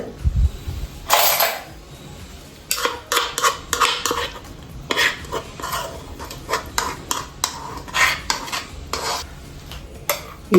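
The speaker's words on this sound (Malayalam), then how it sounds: "അരച്ച് വെച്ചതും ഒക്കെ കൂടി മിക്സ് ചെയ്യാം." A spoon scrapes and clanks against a cooking pot while ground paste is stirred into fish curry, with irregular metallic knocks and scraping strokes up close, and a faint sizzle underneath.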